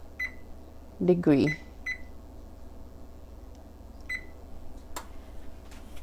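An oven control panel beeps while it is set to 400 degrees for roasting breadfruit: a few short, clear electronic beeps spaced apart, with a person talking over them.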